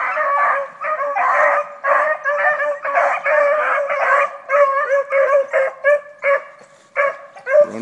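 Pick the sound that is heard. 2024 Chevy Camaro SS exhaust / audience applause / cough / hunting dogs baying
hunting dogs baying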